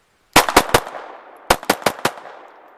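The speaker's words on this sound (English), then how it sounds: "let's go through this mag too, and see how we do" Seven sharp, loud close-range shots from a Beretta 71 pistol as a magazine is fired: a quick burst of three, a short pause, then four more in fast succession.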